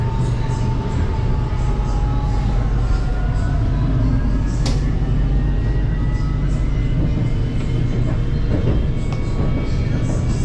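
A Kuala Lumpur monorail running from Bukit Bintang toward Bandar Tasik Selatan gives off a loud, steady rumble with drifting whining tones throughout, heard from on board.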